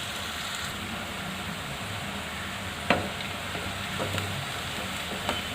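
Onions frying in a pan for paneer keema, a continuous soft sizzle with light scraping of stirring and one sharp clack partway through.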